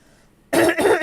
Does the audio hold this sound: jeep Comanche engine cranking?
no